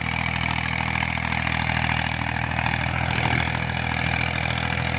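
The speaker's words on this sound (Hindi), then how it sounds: "ये सामने देखें जी ट्रैक्टर, और ये कर रहे हैं जी धान की काश्त के लिए ना, खेत को तैयार कर रहे हैं" A tractor preparing a paddy field for rice cultivation near Gujranwala, its engine giving a steady, continuous drone at fairly close range throughout, with no talk.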